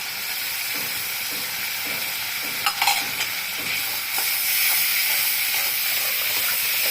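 Spice mixture with salt, turmeric and sugar sizzles steadily in oil for a tangy Boroli fish curry, with a brief burst of stirring scrapes midway and a constant frying hiss.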